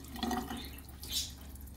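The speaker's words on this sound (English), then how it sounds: "we're going to rinse this off one more time with tap water" Tap water splashes briefly over a glass microscope slide during a fecal Gram stain in a lab sink, a short, close trickle with a small burst of spray, no voices.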